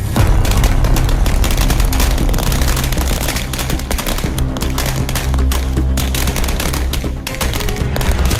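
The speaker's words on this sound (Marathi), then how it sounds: "फटाक्यांची आतिषबाजी" Dense rapid firecracker bursts at an election victory celebration by a crossroads in Samode near Pimpalner, loud and continuous crackling like a string of rolling blasts with deep booms underneath, running without pause.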